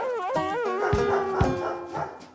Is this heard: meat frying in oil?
no